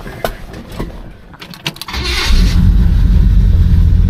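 A 1967 Chevelle starts up: a few clicks and cranking, then the engine catches about halfway through and settles into a loud, steady idle close to the microphone.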